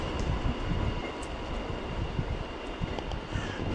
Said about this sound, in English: Two-car diesel service.